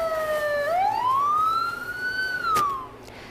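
A fire engine siren wails loud and near at a fire on Jalan Lembang, Bandung Regency, one rising and falling sweep ending with a short sharp blip.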